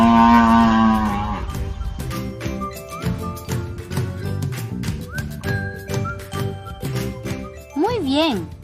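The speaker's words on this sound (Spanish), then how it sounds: "Muy bien, es la vaca." Cow mooing in a children's animal-sounds quiz, a drawn-out low call over a busy backing of jingling music and chimes, with voices and other effects mixed in.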